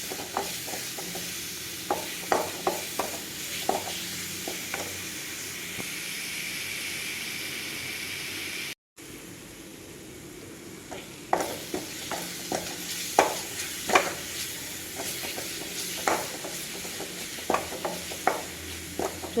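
Crushed shallots and black pepper sizzle in hot oil in a pan, under a steady frying hiss, while a spoon scrapes and stirs in repeated sharp strokes, with a brief cut of silence midway.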